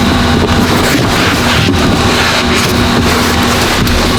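A Vortex air tool blasts compressed air across a car during auto detailing, producing a loud, continuous roaring gust of air close to the microphone with fluttering turbulence and no pauses.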